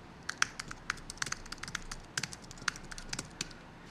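Steady typing on a computer keyboard at a workbench, crisp irregular key clicks close by and fairly quiet, with no talking.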